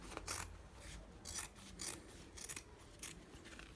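Scissors cutting white fabric for a double collar, repeated crisp snipping strokes about every half second, close and fairly quiet, with no speech.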